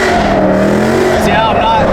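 A 700-horsepower Corvette C6 Z06 engine roars loudly and continuously as it shifts into second gear while drifting, its harmonic drone rising after the shift, with a voice talking over it.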